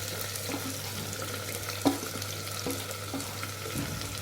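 Chopped onion and garlic sizzle in hot oil in a pan while a Tamil tangy tamarind curry is cooked, a steady close hiss with a few light stirs and one sharp clink.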